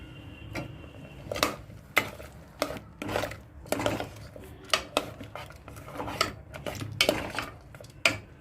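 A spoon clanks and scrapes against a metal pot as potatoes are stirred into Kashmiri-style meat curry with red chilli, giving irregular sharp knocks and clatters close by, with no talking.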